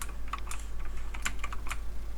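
Computer keyboard keys pressed while playing a Polish car-driving video game, a quick irregular run of light clicks over a steady low hum.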